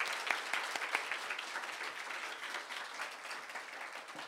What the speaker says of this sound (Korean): 모든 사람들을 위해서 힘찬 박수 부탁드리겠습니다